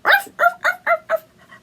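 A human voice mimics a dog barking: five sharp, close bark-like yelps in quick succession, followed by a couple of fainter trailing yips.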